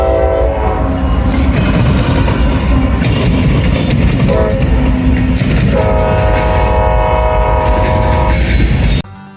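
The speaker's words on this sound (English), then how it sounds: "there have been horns that have tripped me up, this AC 4400 CWM being one of them" A GE AC4400CW locomotive sounds its loud multi-tone horn in repeated blasts as the train roars past close by, with rumbling wheels and rail clatter until it cuts off abruptly at the end.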